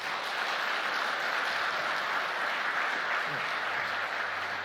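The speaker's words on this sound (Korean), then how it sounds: "다시 한번 크게 박수해 주십시오." A church congregation at a Sunday worship service applauds in a broad, even wash of clapping that holds steady and fairly distant, with a brief voice murmuring underneath.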